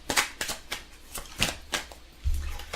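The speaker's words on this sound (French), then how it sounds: "Donc on va tirer une petite carte pour voir le message du jour." Oracle cards are handled and drawn from a deck, giving a few soft, crisp papery flicks and slides close by, with a low thump near the end and no talk.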